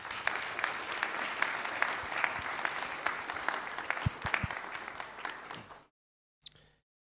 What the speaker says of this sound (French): que vous pouvez applaudir bien fort